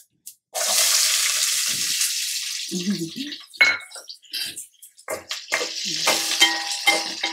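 Loud, close sizzling as onions drop into hot oil with mustard and cumin seeds for a Telangana onion moong dal curry, a strong hiss broken by spoon clatter and stirring.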